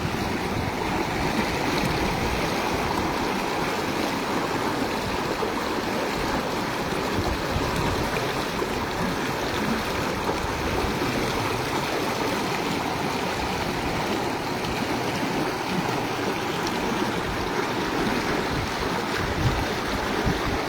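Floodwater from rain rushes through a rocky mountain stream in the Koh-e-Suleman range, a loud, continuous broadband roar and churn that stays steady throughout with no speech.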